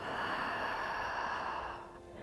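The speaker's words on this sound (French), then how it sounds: "Et là, tu repars, expire." A long, steady exhale through the mouth during a guided breathing exercise, close and fairly loud, trailing off at the end with no talk over it.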